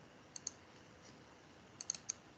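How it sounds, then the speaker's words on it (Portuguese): Quick mouse clicks while working in CAD drafting software: a faint pair near the start, then a quick cluster of three or four sharp little clicks toward the end, alone against quiet room hiss. "Dou 2 cliques para ele ativar"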